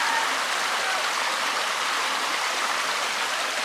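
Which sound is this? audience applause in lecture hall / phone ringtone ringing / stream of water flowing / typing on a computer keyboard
stream of water flowing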